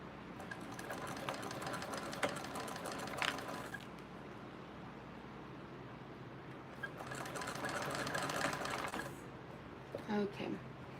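A sewing machine stitches in a steady mechanical whir that swells in two longer runs, close but quiet, with a voice speaking at times over it.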